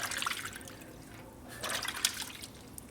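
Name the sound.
motor part dipped in water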